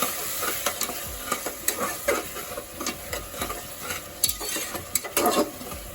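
Onion paste sizzles and fries in a pan for a mutton curry, with repeated scraping stirs and clinks of a utensil against the pot, close and steady, no talking.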